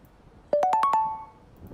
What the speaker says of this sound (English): That's the sound your phone makes?